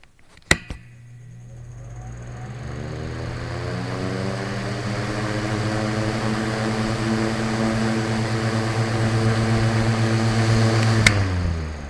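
A Mainstays SFC-225BR-1 9-inch high velocity fan running on high: a click of the switch, then the motor spins up into a steady, close whooshing drone with a rising hum, ending in another click.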